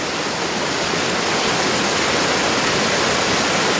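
Loud, steady roar of rushing water filling the whole clip, a constant broadband wash like a strong torrent or waterfall close by.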